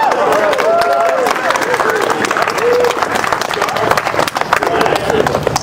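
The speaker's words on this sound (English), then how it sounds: "So give her a round of applause." Outdoor crowd applause and clapping in a town square after a TubaChristmas tuba concert in Belvidere, New Jersey, dense and steady throughout, with voices mixed in.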